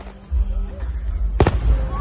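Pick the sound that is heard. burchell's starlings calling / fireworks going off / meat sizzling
fireworks going off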